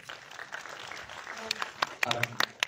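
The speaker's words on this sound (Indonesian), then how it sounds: "Silakan tepuk tangan teman-teman." A press conference audience for an Indonesian film gives scattered, fairly quiet applause that gets sharper and more distinct toward the end, with voices murmuring in the room throughout.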